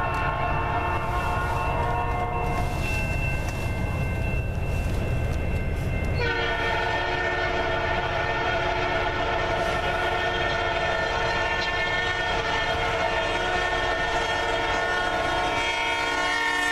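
A CN freight train rolls past at Ladysmith with a loud, sustained horn blast over rumbling wheels, continuing steadily for the whole stretch.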